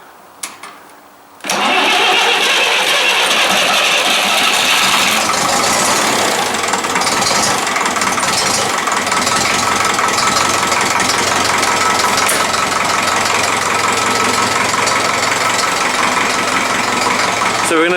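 A vintage grey Ferguson tractor engine, bought new in 1956, fires up by push button after a brief quiet moment and then settles into a loud, steady, close idle that runs on without a break.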